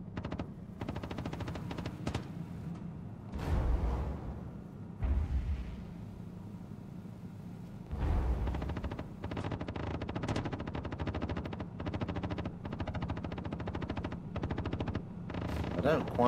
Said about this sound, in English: I don't quite know what those NPCs are shooting at